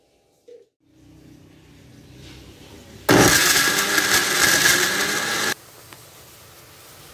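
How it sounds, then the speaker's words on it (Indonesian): A blender grinding cooked chillies roars loudly for a couple of seconds after a quieter hum, then cuts off abruptly, with a few faint clicks afterward. "Cili yang dah masak kita kisar ya dalam blender sehingga dia lumat ya."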